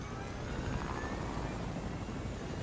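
A helicopter in the battle-royale game Fortnite drones steadily with a continuous rotor and engine whir, moderately loud and unbroken, with no speech over it.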